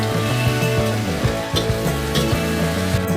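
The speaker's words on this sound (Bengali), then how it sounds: "এবারে এই মশলাগুলো দিয়ে আমি ভালো করে মশলাগুলো কষে নেব" Spices sautéing in hot oil for a South Indian chicken curry, a loud close sizzle with repeated scraping stir strokes and clinks, no voices.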